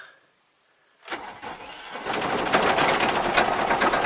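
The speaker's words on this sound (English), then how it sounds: "Turn the ignition" Aixam van engine cranks briefly and catches on the ignition key after a second of silence, then settles into a steady, loud, buzzy idle that grows slightly stronger.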